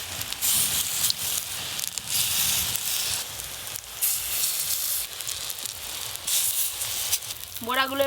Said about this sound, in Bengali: এবার কুমড়ো ফুলের বড়াগুলো ভেজে নেব